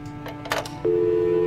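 A telephone call goes unanswered in the horror adventure game Scratches, with a few dial clicks and then a steady electronic tone that starts and holds, close and clear with no voices.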